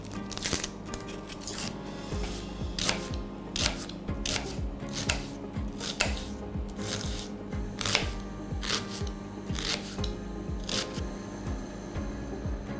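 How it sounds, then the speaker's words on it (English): Knife chopping an onion on a board, a run of sharp, close, regular chopping taps with short pauses between, quiet overall with no talk. "To start with, we need an onion, chopped up."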